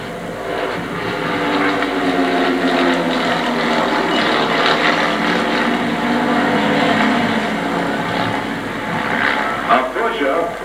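A propeller aerobatic airplane from the Vanguard Squadron performs at a large air show, its engine droning and shifting in pitch as it maneuvers, heard over a commentator talking.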